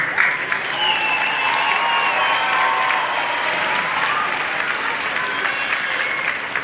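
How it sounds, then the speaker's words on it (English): A large graduation ceremony crowd claps steadily for several seconds, with cheers and whoops rising over the continuous applause. "Give them a round of applause, graduates."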